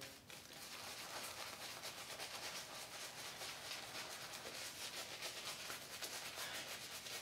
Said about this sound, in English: Build up some lather.